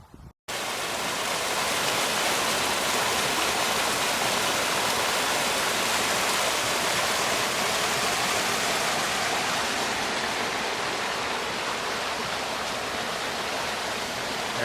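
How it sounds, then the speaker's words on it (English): Steady, loud rush of a December creek flowing high out of its banks, a dense broadband roar with no voices, starting abruptly after a brief moment of quiet. "you can see the creek is high out of the banks"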